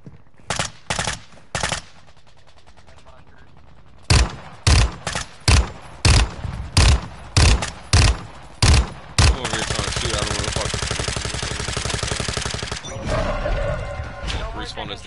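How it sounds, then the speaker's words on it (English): Rapid bursts of video game gunfire crack out in a dense run of sharp repeated shots, then give way to sustained noisy firing, with players talking over it. "Who's shooting up here, gang?"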